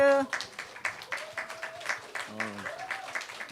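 Applause during a Sunday afternoon church service, a short burst of crowd clapping that follows a voice, with a speaking voice continuing over the tapering claps.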